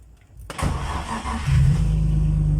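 A BMW E36 car engine is started with a push button switch. After a brief quiet, the starter cranks for about a second, then the engine catches into a steady, close idle rumble.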